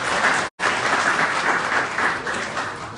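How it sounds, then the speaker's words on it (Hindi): Loud, sustained applause from a large audience at a motivational talk, a thick continuous roar of clapping with a brief dropout near the start, then tapering slightly toward the end. "जोरदार तालियां दोस्तों।"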